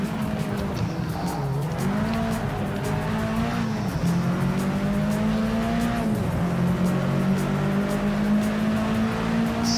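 Race car in Project Cars 3 driving continuously, with a steady engine drone whose pitch rises and dips as it shifts and corners, plus faint tire noise, loud and up close, with no voices.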